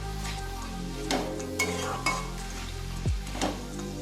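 Fried bottle gourd peel and broken lentil dumplings are stirred in a pan, soft scraping and clinking strokes over a low sizzle, with a few sharper knocks of the spoon against the metal.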